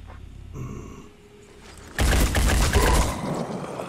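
Gunfire in the Phoenix Point tactical video game: a sudden loud burst of rapid shots erupts halfway through and rattles on steadily after a quieter, humming lead-in.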